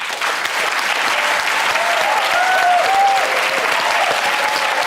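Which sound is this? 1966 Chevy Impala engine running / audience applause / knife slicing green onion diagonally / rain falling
audience applause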